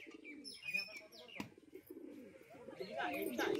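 Pigeons kept by an elderly man at a home loft coo and chirp near and clearly, mixed with other bird calls and a brief flutter, while people talk over them.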